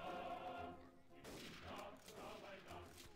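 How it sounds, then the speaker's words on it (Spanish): Rapid gunfire crackles from a Mount and Blade: Warband battle in the Snow In The East mod, a dense fusillade of overlapping shots that swells and recedes over a steady battlefield din, loud and close throughout. "Los disparos en este mod están muy bien hechos"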